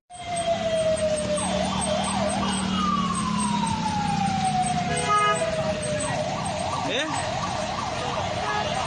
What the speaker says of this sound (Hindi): एम्बुलेंस को देख लीजिए।